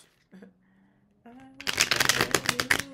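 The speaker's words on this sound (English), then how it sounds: "And I'm going to shuffle." A deck of playing cards shuffles in a close, rapid flurry of riffling flicks after a few quiet handling sounds, with no voices.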